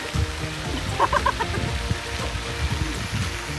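Ducks quack and cluck in short bursts over a steady pattering background, fairly close, with no talking.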